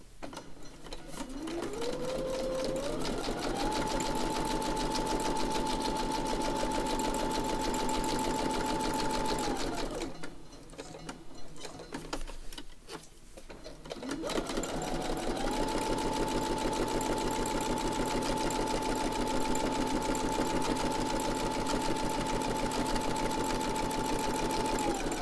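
Sewing machine stitching through junk journal pages made from a book, a steady high motor whine running for several seconds, pausing briefly, then resuming at the same even pitch, close and loud.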